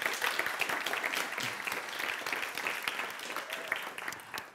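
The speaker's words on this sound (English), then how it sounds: "Let's give them a round of applause, please." An audience at a Friday-afternoon event breaks into a sustained round of applause, dense clapping from a sizable crowd heard at moderate distance for the full length.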